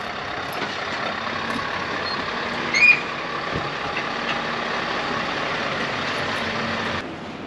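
A hook-lift truck arriving to collect containers: a steady, loud diesel drone with a short burst of air-brake hiss near the start and faint beeps, no voices.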